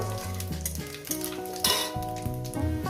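Kachki fish with vegetables fries in a pan, a soft continuous sizzle with occasional clinks of a utensil, partly masked by background music with clear melodic notes.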